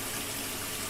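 Ordinary tap water runs steadily from a faucet for rinsing developed black-and-white film at home, a continuous close hiss and splash with no talk.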